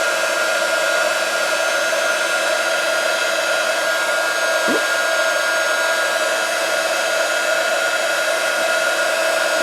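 Heat embossing tool blowing hot air onto Grafix shrink film, a loud, steady fan-like whir with a constant hum, running unbroken throughout.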